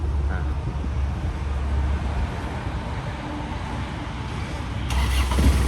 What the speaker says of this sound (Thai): นี่ครับรถติดนะครับผม